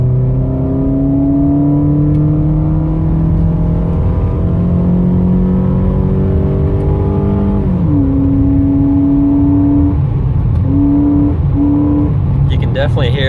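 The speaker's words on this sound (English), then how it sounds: "I'm gonna hit this straightaway here, and then slow down to about 40 and floor it" A 2004 Toyota Camry with a cold air intake accelerates at full throttle, its engine note climbing steadily in pitch, dropping at a shift, then rising again, loud and close from inside the car.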